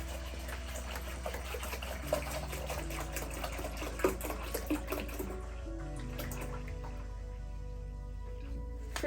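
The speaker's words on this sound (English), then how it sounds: "We've got our tank filled with water" Distilled water pours into the tank of a Creworks ultrasonic cleaner, a steady close running-water wash with a low constant hum beneath that thins and quiets toward the end.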